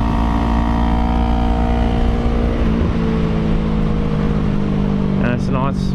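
A Yamaha R3 sport motorbike accelerates toward a corner, its engine droning loudly and steadily with rising and shifting pitch under wind rush, and a rider's voice speaks over it near the end.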